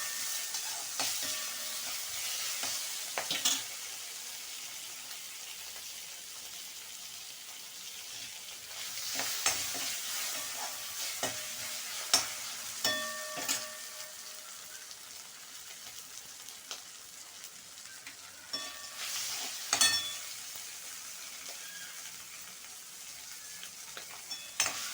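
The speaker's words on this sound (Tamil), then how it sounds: "கொஞ்சம் நல்லா வதங்கட்டும்." Tomatoes sauté in a frying pan for thogayal with a steady, close sizzle, and a spoon scrapes and taps the pan in repeated bursts throughout.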